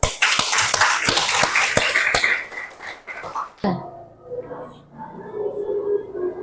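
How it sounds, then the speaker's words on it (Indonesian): Audience applause at an Indonesian gathering, a few seconds of close, crisp clapping with sharp individual hand claps, cutting off abruptly and giving way to quieter room sound with faint voices. "Berikan aplaus."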